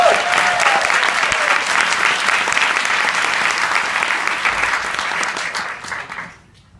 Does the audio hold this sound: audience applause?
yes